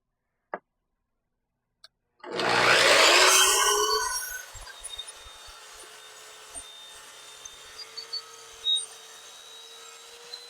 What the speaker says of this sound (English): we're going to go ahead and make our cuts and get a nice straight line on this